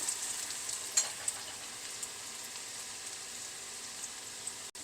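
Onion fries in sesame oil with a pinch of asafoetida for bitter gourd pachadi, making a faint, even crackling hiss with a few tiny pops and no talking.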